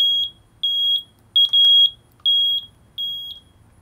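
A motorcycle turn-signal buzzer gives short, high-pitched beeps, often in pairs, repeating at an even pace against near silence.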